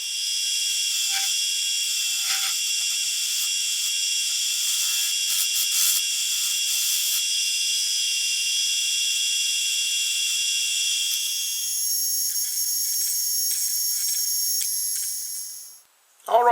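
A power tool shapes a wooden log chalice with a loud, continuous high-pitched grinding whine that holds steady for about fifteen seconds before winding down, followed by a brief burst of sound at the very end.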